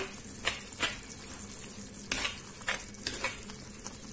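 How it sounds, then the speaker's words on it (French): Onions cooking in a tagine, with a soft steady sizzle and several scraping stirring strokes, close but fairly quiet, no talking. "Les oignons commencent à relâcher de l'eau. Vous venez, vous mélangez."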